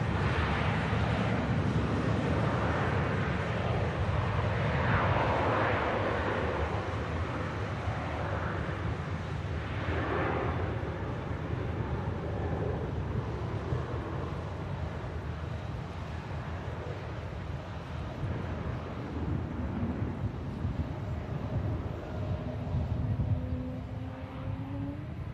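A KLM airliner begins its takeoff roll, a broad steady jet engine roar heard from a distance and building gradually, with wind noise on the microphone and no talking.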